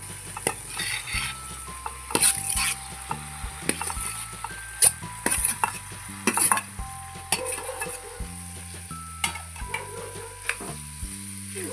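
Crushed tender jackfruit sabji being stirred in a pan, with a spoon scraping and knocking against the metal in irregular strokes over a light sizzle, close and fairly loud.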